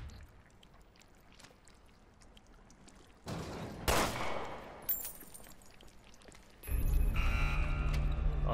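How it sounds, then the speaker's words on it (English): Gunfire in the Resident Evil Revelations 2 video game, with a couple of loud bursts standing out from a quiet, rumbling dark backdrop before a sustained roaring blast of noise at the end. "Let me try shooting it down."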